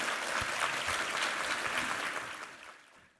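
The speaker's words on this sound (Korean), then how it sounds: "우리 하나님께 감사와 영광의 박수 올려드리겠습니다" A church congregation during a Korean sermon service claps together in a sustained wash of applause that holds steady, then gradually fades out toward the end.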